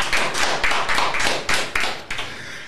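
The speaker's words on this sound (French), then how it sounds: "on peut applaudir SLF." A small group in a rap radio show studio claps in a few loud, separate bursts, with close, slapping hand claps that come in uneven clusters over about three seconds.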